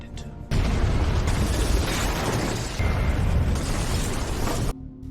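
A bomb blast in a film, a sudden loud broadband roar that holds for about four seconds before cutting off abruptly, with no voices.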